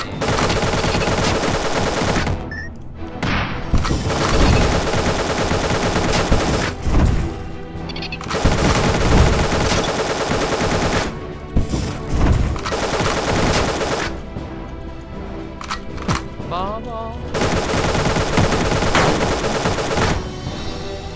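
AK and minigun fire from the video game Dungreed forms dense, continuous rattling gunfire with booming impacts, broken by a few short pauses and blended with busy game audio.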